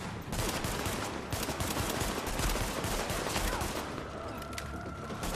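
Dense, continuous gunfire in the video game The Division, rapid automatic bursts layered into a loud fusillade that fills the whole stretch without pause.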